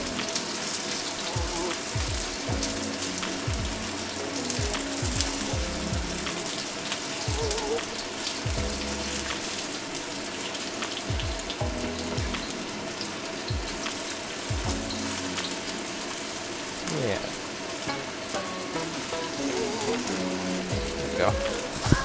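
Cornstarch-coated meat sears in a hot pan for a Sichuan stir fry, giving a steady rain-like crackle and sizzle that runs throughout, with scattered low thumps of handling and a voice talking over it.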